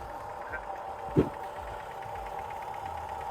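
A Chevrolet Gentra car engine idles with a steady, even hum, interrupted by one brief knock or tap partway through.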